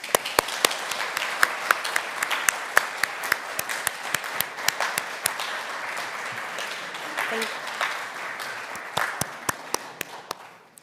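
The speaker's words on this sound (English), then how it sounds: "give a warm welcome and congratulatory round of applause to our young writers" An audience claps for young writers at a writers workshop evening, dense applause with sharp individual claps standing out, sustained for several seconds before thinning, with voices mixed in.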